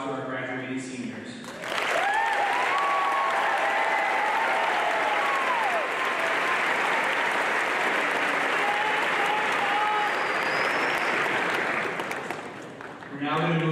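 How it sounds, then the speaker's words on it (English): Sustained audience applause and cheering in an auditorium at a high school graduation, lasting over ten seconds, with speech just before and just after the clapping. "I would like to give a round of applause to our graduating seniors"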